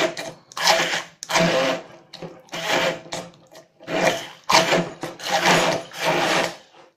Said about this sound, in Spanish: Porque si no, mi batidora no puede, no tiene fuerza para batirlo.